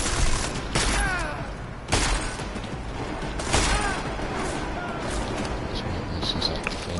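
Heavy video game gunfire in a PS4 defense-point shooter, a dense, loud, continuous fusillade with sharper bursts punching through every couple of seconds.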